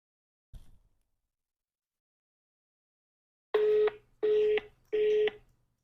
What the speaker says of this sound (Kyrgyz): Байкебиз телефонун албай жатат.